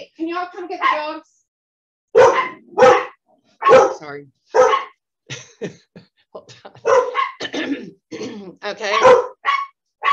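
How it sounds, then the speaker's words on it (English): Dogs bark indoors in a series of sharp, close, repeated barks separated by short pauses, with people talking in between. "Hey, can y'all come get the dogs?"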